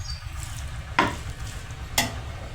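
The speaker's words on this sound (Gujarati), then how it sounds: "હવે તેને હલાવીને મિક્સ કરી લઈશું." Dry-style okra frying in oil hisses steadily while a utensil scrapes through it twice, two sharp stirring strokes about a second apart over the continuous sizzle.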